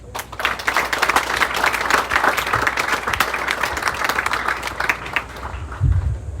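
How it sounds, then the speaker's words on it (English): Audience applause fills a hall during a military-style class recognition ceremony, a steady dense wash of many hands clapping throughout, fairly loud and continuous, with no speech over it. "Let us give our fourth classmen to be recognized a warm round of applause"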